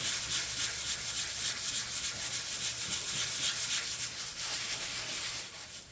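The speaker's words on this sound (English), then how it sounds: "scuff it up with the sandpaper" Sandpaper scuffing a kayak keel guard in quick back-and-forth strokes, a steady hissy rasp that pulses with each pass, close and fairly quiet, with no talking.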